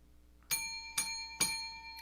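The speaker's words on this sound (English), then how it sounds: "was that a dinner bell?" A dinner bell rings three times in quick succession, each clear metallic strike decaying briefly against a quiet indoor background.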